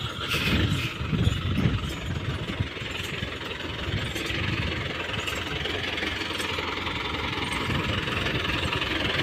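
A Pakistani-made tractor engine idles steadily nearby on a farm where fodder is being sown, its low mechanical rumble continuous and fairly loud throughout, slightly rougher in the first couple of seconds.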